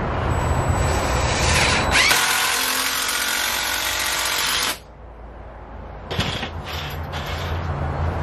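A power drill drives long screws into a homemade LED exposure unit: a loud sustained whir for several seconds, then a pause and a few short bursts of drilling.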